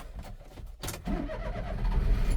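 A Daihatsu truck engine is started close by: a brief starter crank, then the engine catches and settles into a steady rumbling idle, with no one talking.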